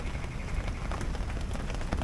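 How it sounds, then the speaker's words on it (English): Steady patter of rain falling on a campsite on Bribie Island, dense and close, with scattered drops tapping on a surface throughout. "I wanted to camp in the rain"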